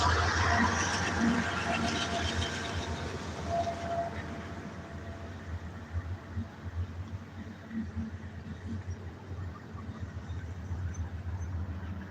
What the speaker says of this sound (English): That other train that was parked down there finally got moving again.